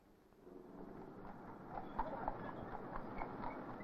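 Horse hooves clip-clopping as a horse pulls a tram on the Isle of Man tramway, a faint, steady, irregular rhythm of hoof strikes over low rolling rumble.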